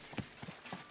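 Horse hooves clip-clop in Kingdom Come Deliverance II, three distinct muffled steps in an uneven rhythm over a faint background, close and moderately loud.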